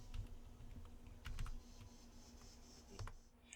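Faint, close keyboard taps as a search command is entered at a Windows command prompt, light irregular keystrokes over a low background hum.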